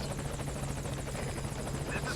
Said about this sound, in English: So now we got to put our little friend on the helicopter